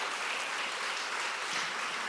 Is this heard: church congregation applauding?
yes